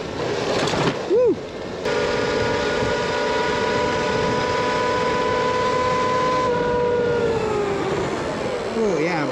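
A Rawrr Mantis electric bike being ridden produces a steady, loud whine that holds pitch, then tails off and wavers near the end, over heavy wind rumble, with a short burst of voice early on.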